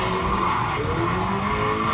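A Miata drifting with its tires skidding and squealing over a revving engine, loud and continuous for two seconds.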